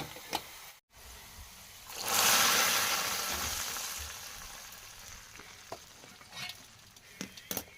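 Fried onion tempering is poured into hot dalcha, giving a sudden loud sizzle that slowly fades to a soft simmering crackle with a few clinks of the pan.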